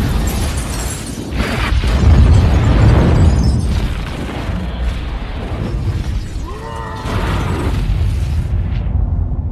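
A heavy explosion with a deep rumbling boom that rolls on, followed by crackling debris and lingering roar.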